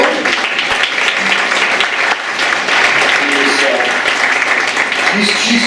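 Loud, dense applause from a crowd at a teachers union sponsored Board of Education forum honours the union office manager, steady clapping throughout with voices murmuring underneath.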